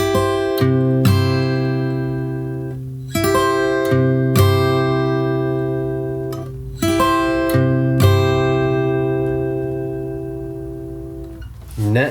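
The chorus of a song played on an acoustic guitar in fingerstyle arrangement, with ringing strummed chords and sharp percussive body hits. Several chords let ring and decay, each starting with a crisp slap, with no one speaking.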